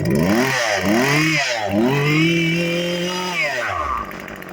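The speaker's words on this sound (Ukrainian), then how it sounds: "Ну ось, пилка працює." A small petrol engine of a Husqvarna 142 chainsaw idles and revs in rising and falling sweeps, loud and close, then drops off near the end.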